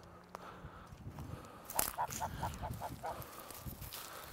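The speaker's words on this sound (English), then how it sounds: "Can I grab at least one of these geese?" Geese on a farm honk in a quick run of repeated calls, fairly close and moderately loud, over a low background rumble.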